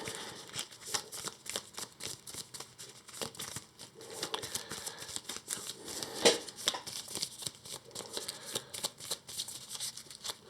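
Cards for the Earthborne Rangers board game are shuffled close up, a busy run of papery riffling and flicking with one sharper snap partway through.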